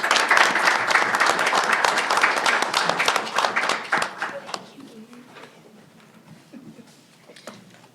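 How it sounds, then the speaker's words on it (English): A room of attendees at a school district board meeting applauds proclamation recipients with dense, loud clapping that fades out after about four seconds, followed by quieter room sounds. "So if we can give them all a round of applause,"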